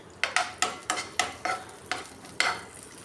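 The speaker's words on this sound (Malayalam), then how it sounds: "അണ്ടിപ്പരിപ്പ് ഒന്ന് മൂത്ത് വരുമ്പം മുന്തിരി ഇട്ട് കൊടുക്കാം" Cashews, raisins and cardamom pods fry in a pan while a spoon stirs them, making a handful of close, sharp scraping clinks over a light sizzle, with no voices.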